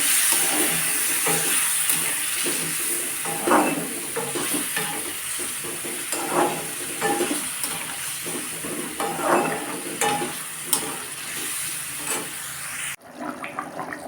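A spice paste of grated ginger, cumin and coriander powder sizzles and hisses in a pan, a continuous frying sound broken by scraping stirs, ending abruptly.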